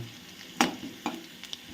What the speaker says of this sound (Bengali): পেঁয়াজটা একটু ভাজা ভাজা হোক পেঁয়াজটা ভাজা হয়ে গেছে